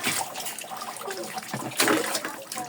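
Water splashes and pours while a dog named Lily is being bathed, a continuous, fairly loud wash of running and sloshing water.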